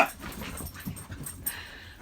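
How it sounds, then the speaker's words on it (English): Puppies whimper faintly in a quiet room, giving soft, brief whines and one small yelp near the middle, with no talking. "Puppies."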